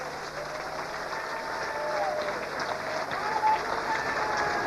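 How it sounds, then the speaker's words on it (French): A church congregation applauds and cheers for Jesus in a sustained burst of clapping and crowd noise, with voices and whistles mixed in. "Si tu l'aimes, acclame Jésus fort,"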